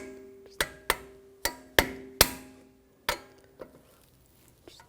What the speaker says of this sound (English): Just take the back side of a hammer,